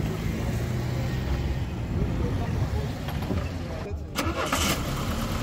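A used alcohol-fuelled car's engine cranks and catches, then settles into a steady rumbling idle, close by, with brief background voices at a used car fair.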